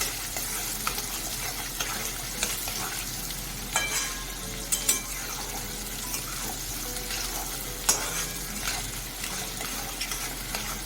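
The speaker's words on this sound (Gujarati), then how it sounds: "કાંદા નાખી દેવાના હા એકદમ સ્લો ટુ મીડિયમના ગેસ ઉપર કરવાનું છે" Onions frying in a pan over a slow-to-medium gas flame for a South Gujarat dish, a steady close sizzle with occasional stirring clatter and scrapes, no voices.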